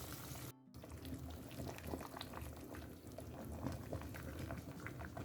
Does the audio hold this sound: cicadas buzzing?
no